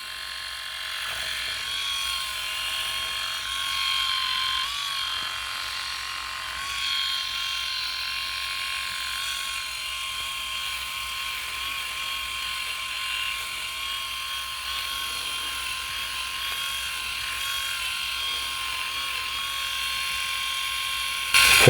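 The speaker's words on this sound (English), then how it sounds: "I like to stretch my skin somewhat to try and get a closer shave." Philips i9000 electric shaver running close up while shaving, a steady high buzzing hum with slight shifts in tone as it moves over the skin, with no talking.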